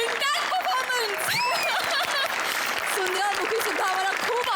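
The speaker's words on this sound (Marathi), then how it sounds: "जोरदार टाळ्या." An audience applauds loudly after a comedy skit on a Marathi stage show. The clapping is steady and continuous throughout, mixed with whoops and voices from the crowd.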